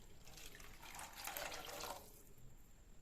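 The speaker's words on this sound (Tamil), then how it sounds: "தண்ணி உள்ளே ஆட் பண்ணிக்கிறேன்." About 200 grams of water pours steadily into a pan of paneer butter masala for about two seconds, then the splashing stops, leaving a quiet background hum.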